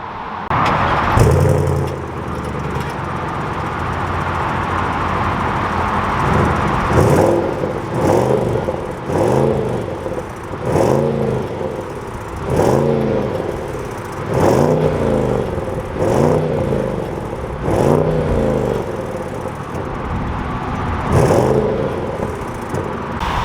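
Audi S8 luxury sedan, 591 horsepower, engine rumbling steadily and then revved in a repeated series of rising, swelling bursts, each climbing and falling back, heard up close and loud without talk.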